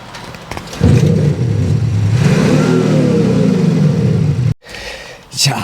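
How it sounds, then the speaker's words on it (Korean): A petrol-hybrid sports car's exhaust roars loudly as the engine revs up and holds a deep, booming drone, then cuts off abruptly before picking up again. "뭐니 뭐니 해도 스포츠카 하면은 이 배기 사운드지 않겠습니까?"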